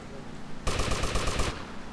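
Rapid automatic gunfire from a weapon in the video game GTA Vice City, a dense burst of shots lasting under a second and standing out loudly over quieter game background sound.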